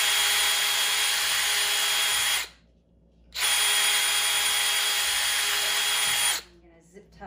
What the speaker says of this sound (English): the drill can go right through this and through the opening in the dog crate